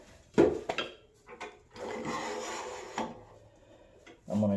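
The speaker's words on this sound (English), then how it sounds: "Now we're going to go ahead and start sanding." Hand sanding of a resin and walnut turned bowl, with bursts of rasping friction early on, then a sustained rough scrubbing stretch in the middle, up close and fairly quiet.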